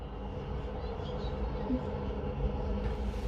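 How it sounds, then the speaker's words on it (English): A train rumbles past with a steady, dense low roar and rolling mechanical noise, continuous and fairly loud throughout. "when the train goes by"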